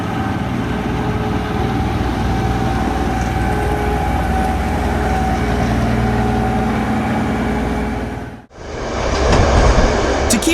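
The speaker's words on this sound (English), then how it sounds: "Check out how far this locomotive can toss snow off the tracks." A Norwegian locomotive plows snow off the tracks with a loud, continuous roar of engine and rushing snow that holds steady for about eight seconds, breaks off in a sudden dip, then resumes with rough rumbling.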